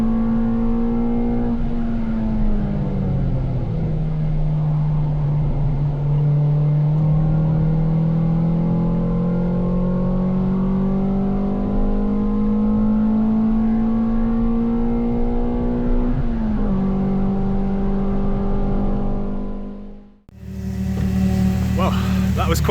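A Ford Fiesta ST with a Mountune exhaust and inlet cams is driven hard on track at Castle Combe, its engine note loud and close, rising and falling through the gears before cutting out abruptly near the end.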